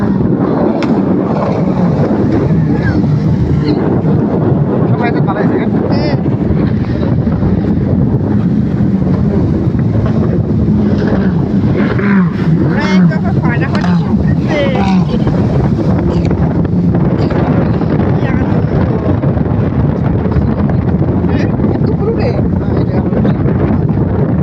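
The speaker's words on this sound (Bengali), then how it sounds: "দেখো স্পিড বোর্ডের মেলা দেখাইতেছে তোমাদেরকে" Speedboats racing on a river, a loud continuous roar of engines and rushing water buffeted by heavy wind noise on the microphone throughout.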